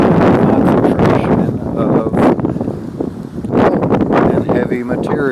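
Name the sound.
wind blowing outdoors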